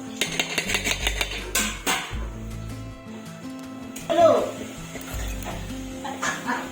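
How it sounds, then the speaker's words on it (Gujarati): Jaggery is stirred into Gujarati patra batter in a pot, and a utensil clinks and scrapes against the vessel in an uneven rhythm while someone talks over it. "તો જોઈ શકો છો મિત્રો અમે મિક્સ કરી રહ્યા છે ગોળ નાખીને એટલે બરાબર મિક્સ થઈ જાય"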